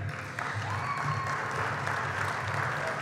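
Sustained audience applause at an aviation awards ceremony, a dense steady wash of many hands clapping through a hall, continuing evenly throughout.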